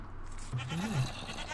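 A Minecraft goat gives a single short, rising-then-falling bleat over steady game ambience, fairly close and clear.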